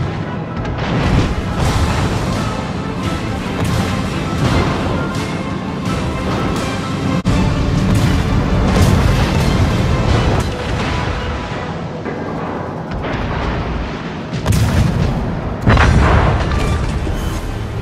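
Warship guns fire in a World of Warships naval battle, a continuous roar of heavy booms and rumbling blasts that swell and fade in repeated waves, loud and close, with no voices.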